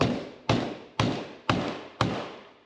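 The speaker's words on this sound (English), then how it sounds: "now you'll hear when it starts to sound like a solid thud that it is bottomed out" Five heavy, evenly spaced thuds of a dead blow hammer striking a 32mm socket during a Toyota/Lexus V8 cam gear reseal, about two per second, each dull and solid, with no voices.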